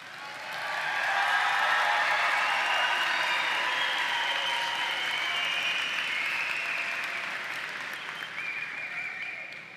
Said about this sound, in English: I think the parents want to applaud you too.